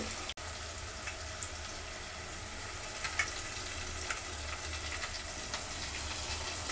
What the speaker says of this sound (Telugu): నూనె అయితే వేడైపోయింది ఉల్లిపాయలు ఇంకేం వేస్తున్నాం పచ్చిమిర్చి కరివేపాకు